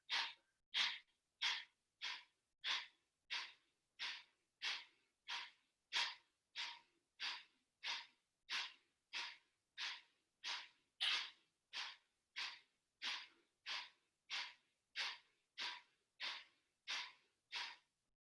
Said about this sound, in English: Inhale, and begin the pumping. Breathing out through the nostrils.